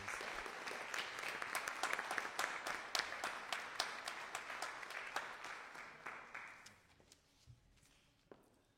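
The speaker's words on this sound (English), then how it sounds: "Let's give a round of applause for all those responses." Audience applause at a live school committee election Q&A event, steady dense clapping that fills the room for several seconds, then thins out and fades to a few scattered claps near the end.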